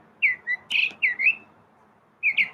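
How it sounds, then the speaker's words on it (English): A bird chirps loudly and close by in short, bright bursts: a few quick tweets, a brief pause, then two more chirps near the end. "bird is loud"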